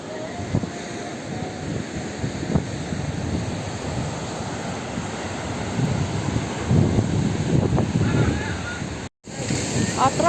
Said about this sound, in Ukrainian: Погода супер, але вітер.